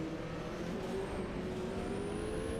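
A historical race car engine in a racing sim game holds a steady, distant drone, its pitch rising slowly and evenly as the car accelerates, with no talk over it.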